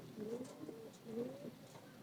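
A male Jalali pigeon coos in two soft, rolling phrases, fairly close, with no talking.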